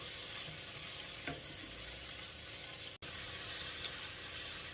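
One kilo of beef mince sizzles in a hot pan for a bolognese sauce, a soft, even frying hiss with occasional scraping from stirring, fairly quiet and close, with no talk and a brief cut partway through.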